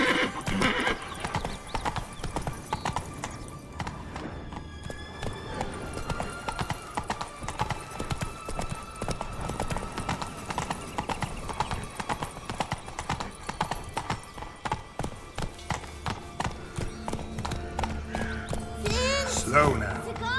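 Steady clip-clop of Roach the horse's hooves on the ground in The Witcher 3, loud and rhythmic across the whole stretch, with a neigh and game ambience and a voice speaking over it.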